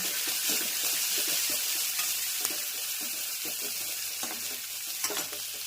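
Curry leaves and chilies hit hot oil with mustard seeds and cumin for a tempering, giving a continuous bright sizzle with occasional soft stirring clicks, close and fairly quiet.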